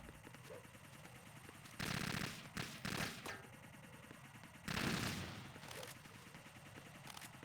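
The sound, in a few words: gunshots fired in the video game Metal Gear Solid 2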